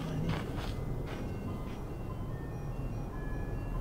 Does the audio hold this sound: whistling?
no